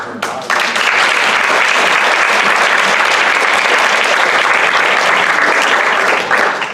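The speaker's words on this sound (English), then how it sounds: "Before you leave, join me in a round of applause for Mr. Engster" An audience at an evening forum on animals in society breaks into loud, sustained applause, a dense even wash of clapping that starts abruptly and holds steady for several seconds.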